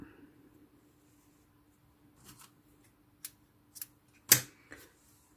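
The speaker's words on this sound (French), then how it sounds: "je vais couper le fil blanc" Scissors cut white knitting yarn in a quiet room: a few sharp, close snips spaced over a couple of seconds, the loudest one near the end, against a faint low hum.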